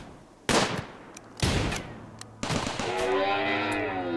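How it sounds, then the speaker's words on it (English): Automatic turrets in the video game RimWorld fire three separate loud bursts at an alpaca, and a drawn-out animal cry follows the last burst. "let's see how that alpaca does against the automatic turrets"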